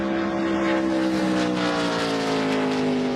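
Timmy Hill's number 56 NASCAR Truck Series race truck circling the track during practice and qualifying, its engine a loud steady drone with a slowly shifting pitch and no talking over it.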